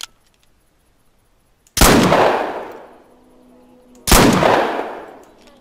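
Two loud pistol blasts firing shot cartridges in the hunting game theHunter: Call of the Wild, each a sharp crack with a long decaying tail, spaced about two seconds apart.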